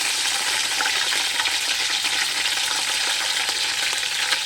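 Mustard seeds, curry leaves and a little fenugreek frying in hot oil over a wood fire, a loud, steady, close crackling sizzle with no talk.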